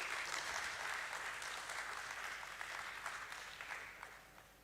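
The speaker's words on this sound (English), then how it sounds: "Let's have a huge round of applause for him" Audience applause at the listing ceremony of Borosil Scientific Ltd at BSE, a dense sustained clapping from a large crowd that slowly thins and fades out over several seconds.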